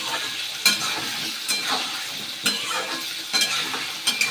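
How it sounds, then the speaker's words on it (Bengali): Leafy greens with salt and turmeric sizzle in a frying pan, a steady close hiss punctuated by several scraping stirs, with no one speaking. "এটা একটু ভাজা করে তুলে নেব, তাহলে ভালো হবে, একটু লাল লাল করে।"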